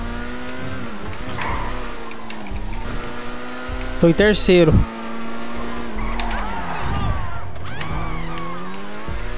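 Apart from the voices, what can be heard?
car engine and tire squeal racing in video game GTA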